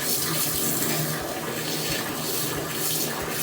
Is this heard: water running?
yes